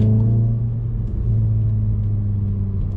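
Volkswagen Golf Mk7 heard from inside the cabin, a low steady engine rumble with slight rises in revs, close and continuous with no talking.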